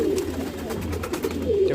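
Breeding pigeons coo steadily at close range while they gather to feed and drink, low throaty burbling rolling on without a break, no voices over it.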